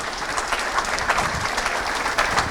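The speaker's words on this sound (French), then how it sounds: "Merci à vous, on peut les applaudir." An audience at a fire-service tactical fire review presentation applauds in a steady, dense burst of many hands clapping, filling the room with no voices.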